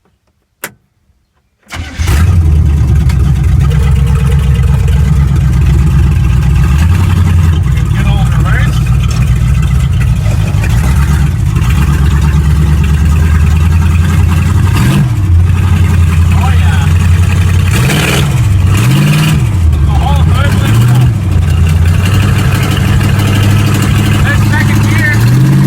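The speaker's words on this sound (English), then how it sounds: "And I'll just fill the coolant now, and then take her for a spin around the yard." A Suzuki with a swapped-in V8 engine fires up after a brief click, then idles loud and close before rumbling around a yard in first gear, with the engine note rising and falling through several revs.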